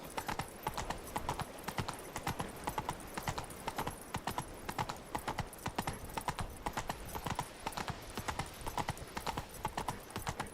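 Roach, the horse in The Witcher 3 game, gallops with steady rhythmic clip-clopping hooves at a close, even loudness, hoofbeats repeating throughout without pause.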